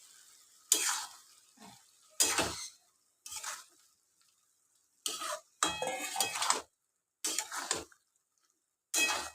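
Boiled okra tips into a pan of cooked spice masala for a yogurt okra dish, and a spoon scrapes and clatters in short separate bursts with quiet pauses between them and no voices.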